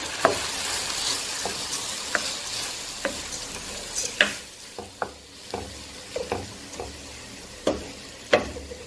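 Food frying in a pan is stirred with a utensil, giving a constant close sizzle broken by irregular scraping clicks and taps against the pan, with no voices.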